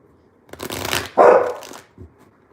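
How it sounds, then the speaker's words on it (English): Tarot cards shuffled by hand in a quiet room: a burst of riffling and a louder, denser flutter of cards, then a short soft tap as the deck settles. "that was me shuffling the cards"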